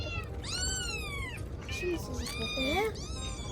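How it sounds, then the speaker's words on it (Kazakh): A small kitten mews repeatedly from inside a box, several high, thin, wavering cries close by, with muffled human voices murmuring underneath. "Каусар, қай жерден кішкентай мысықтың дауыс шығып жатыр?"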